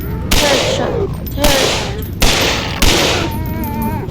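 Bursts of gunfire in the Nightmare House mod game, several loud sharp volleys roughly a second apart, with a voice briefly heard.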